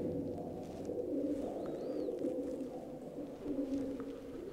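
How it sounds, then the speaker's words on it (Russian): Pigeons coo in low, throaty repeated calls, echoing softly in an enclosed cave of an ancient underground city at Beit Guvrin, Israel, with a faint higher bird chirp partway through. "Слышите, голуби до сих пор живут здесь"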